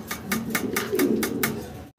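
A pair of fancy Budapest pigeons coos in low, throaty murmurs, close by and continuous, with a series of regular soft tapping pulses over the coos before a sudden cutoff.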